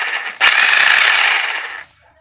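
A three-function rotary hammer drill, being repaired after failing completely, runs briefly in hammer mode, a loud, dense rattling burst of about one and a half seconds that starts abruptly and cuts off, with quieter mechanical noise before and after.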